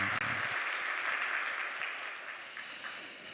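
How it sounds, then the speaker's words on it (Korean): A church congregation at a Korean Sunday worship service applauds loudly, a dense, sustained wash of clapping filling the room and easing off slightly toward the end. "박수 한번 크게 하도록 하겠습니다."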